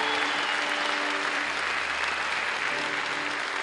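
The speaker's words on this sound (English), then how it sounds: "Give them a nice hand of applause." An audience at a live bluegrass concert claps steadily and loudly, sustained applause filling the room from start to finish.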